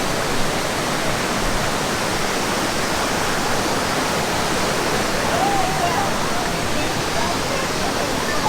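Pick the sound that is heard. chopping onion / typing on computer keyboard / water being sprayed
water being sprayed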